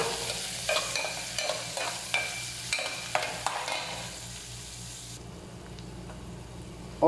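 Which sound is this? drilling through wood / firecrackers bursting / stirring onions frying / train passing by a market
stirring onions frying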